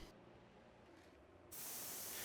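An HVLP spray gun hisses as it sprays finish onto a shop cabinet, a soft airy hiss that jumps to a loud, steady full spray partway through.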